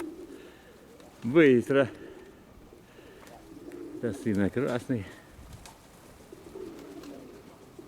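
Pigeons cooing outdoors on a windy December day, a couple of low throaty coo bursts standing out over wind noise, with someone talking nearby in between.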